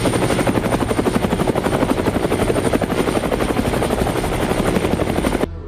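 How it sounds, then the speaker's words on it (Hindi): A helicopter roars overhead as a comic-style sound effect, loud and close, its rotor thudding in rapid, even pulses that continue until the sound cuts off abruptly near the end. "तभी एकाएक आकाश हेलीकॉप्टर की गड़गड़ाहट से गूंज उठा"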